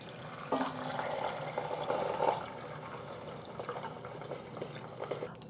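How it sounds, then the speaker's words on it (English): Four cups of water poured into a pot holding whole coriander seeds and a cinnamon stick for Vietnamese chicken pho; a steady splashing pour runs for about two seconds, then fades to quieter trickling, with no talking. "Adding 4 cups of water."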